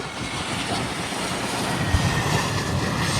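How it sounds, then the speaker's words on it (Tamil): A Scoot airliner coming in to land near a Langkawi island beach, its engine roar a steady, broadband rumble with faint wind-like hiss, holding at constant loudness throughout with no talking. "கரெக்டாக ஒரு ஃப்ளைட் வந்து லேண்ட் ஆகுது பாருங்கள்"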